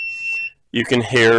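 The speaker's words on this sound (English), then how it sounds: "my alarm going off, and it's about 70 decibels, so I can hear it throughout the house." A 110-volt piezo alarm sounds a steady, loud, shrill tone for about half a second, then cuts off, followed by someone speaking.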